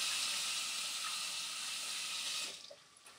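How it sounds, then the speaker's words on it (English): A kitchen tap runs steadily while hands are washed, a loud close hiss of water that cuts off near the end, followed by a few faint clinks. "Wash my hands up quick."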